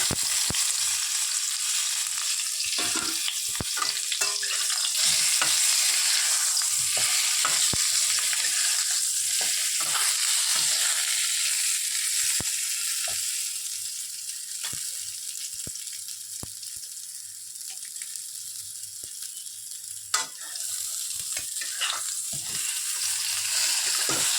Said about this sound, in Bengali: এটাকে নুন হলুদ মাখিয়ে আমরা হালকা ভেজে নেব।